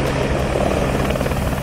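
A helicopter sets down on a hotel rooftop during a security drill, its rotor and engine producing a loud, steady, dense roar that fills the whole stretch without pause.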